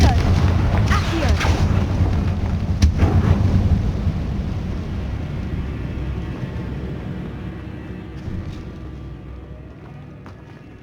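Confringo blasting spells exploding in Hogwarts Legacy, heavy booming blasts and rumbling debris stacked together in a loud, dense opening that slowly fades into a quieter reverberant hall.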